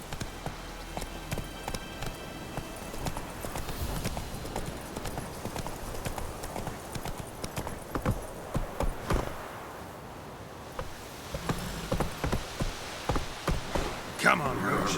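Roach the horse gallops in The Witcher 3 with rhythmic bursts of hoof clip-clops, close and fairly loud, briefly easing before the galloping picks up again.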